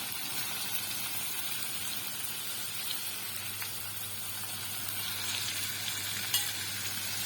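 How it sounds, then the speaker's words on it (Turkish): Steady sizzling and crackling of cauliflower frying in oil in a pan, a constant hiss with occasional small pops, close and alone. "Kızartıyoruz çevre çevre."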